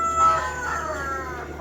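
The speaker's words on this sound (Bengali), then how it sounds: "হাঁস মুরগিগুলো" Ducks and chickens on a rooftop after rain give a single drawn-out crowing call, near and fairly loud, with no talk over it.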